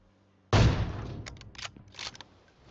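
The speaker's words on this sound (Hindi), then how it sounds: "ये लोग ऊपर से किसी पे तो गोली चला रहे थे" Gunfire in the PUBG Mobile battle royale game: a loud burst of shots opens abruptly, followed by a few more scattered sharp cracks trailing off, with no talk.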